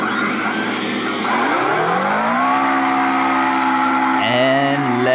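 A Subaru Impreza STI with rear-wheel drive spinning a donut in CarX Drift Racing, its engine droning at high revs with a continuous tire squeal, pitch sliding upward then dipping sharply near the end, loud and unbroken.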